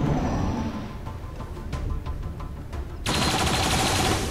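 Gunfire from the turn-based tactics video game XCOM 2, a burst of shots over continuous game background noise, with a louder, denser sound swelling near the end.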